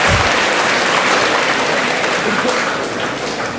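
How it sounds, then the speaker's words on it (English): Loud, dense clapping from a large crowd at a high school assembly, sustained throughout and tapering slightly toward the end. "you can clap your hands"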